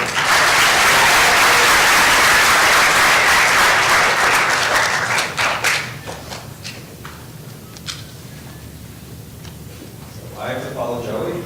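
Dense, loud applause from a school graduation ceremony audience fills the first half, then thins into scattered claps before a voice begins speaking near the end.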